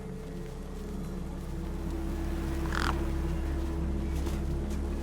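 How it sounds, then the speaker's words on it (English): Crows caw over a desert scene in the video game Beyond a Steel Sky, one or two harsh calls rising above a constant low mechanical hum. "No way I was going to get between those birds and their feast."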